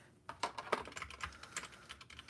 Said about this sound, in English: Good old mechanical keyboard.